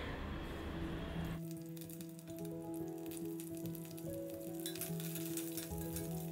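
Green chillies with mustard seeds, cumin and curry leaves sizzling in hot oil as they are stirred, a loud steady frying hiss that starts abruptly and continues under soft stirring scrapes.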